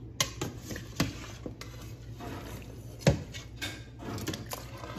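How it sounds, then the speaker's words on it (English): Spoon knocks and scrapes in a pot of beef rib stew with peppers and onions, a few sharp clinks standing out over a low hum, fairly close. "I'm just going to stir it up a bit"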